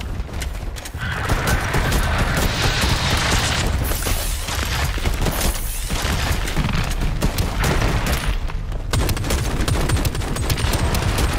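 Continuous gunfire in the Shatterline video game during a co-op mission, dense rapid bursts of shots with booming impacts, loud and sustained for the whole stretch with no talking.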